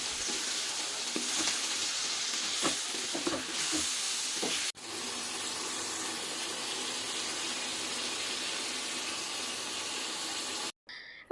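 Chicken pieces frying and browning with tomatoes in a pot of oil for chicken pulao, a steady continuous sizzle and hiss heard close up, with brief stirring clatter and a short break near the end.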